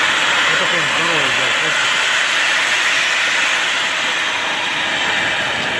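Steam hissing as water is poured onto a hot sauna stove, a loud, continuous broadband hiss filling the whole clip, with a few brief tonal squeaks early on.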